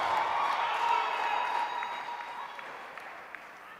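A church congregation claps together during a prophet's sermon, a dense wash of hand claps that swells early and then slowly thins toward the end.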